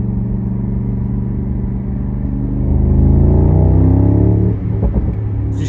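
A Mercedes car engine idles loud and close, then swells into a sustained rev with a rising rumble around the middle before settling back to idle, with no talk.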